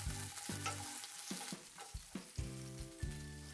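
Minced chicken with pepper cooking in a pan for chicken keema paratha filling, soft sizzling and scraping of stirring in uneven bursts, close and fairly quiet.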